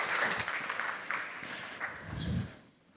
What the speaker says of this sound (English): Please give a huge round of applause for our panelists.